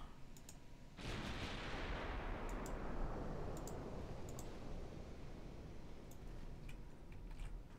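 Warship main guns fire broadsides in the naval game Ultimate Admiral Dreadnoughts: one heavy blast hits suddenly and rolls into a long, slowly fading rumble, with faint clicks scattered over it.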